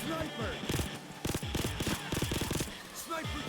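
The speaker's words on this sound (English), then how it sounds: "I don't know how the burst fire works, but it does make the gun feel nice when you put it on there." Burst-fire gunshots from a weapon in the video game Payday 2 ring out in several quick clustered volleys through the middle, with a voice talking over parts of it.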